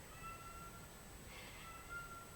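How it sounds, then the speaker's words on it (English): A house cat makes faint, thin high-pitched calls while playing with its toys indoors, soft and fairly distant over a quiet background hum. "When she plays with some of her toys, she starts this high-pitched sound"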